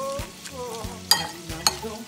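Coleslaw with dressing is tossed in a bowl, giving soft, brief wet rustling and clinking sounds at an irregular rhythm, close by and quiet, with no talking.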